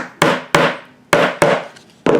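Five sharp, close hammer whacks land on a metal eyelet setter to flatten an eyelet. The hard knocks come at an uneven pace, each ringing briefly before fading.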